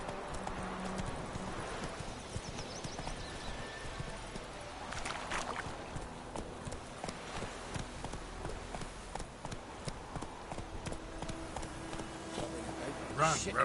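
Roach the horse from The Witcher 3 gallops in a steady rapid clip-clop of hooves under continuous game ambience, with a rider talking over the running hoofbeats.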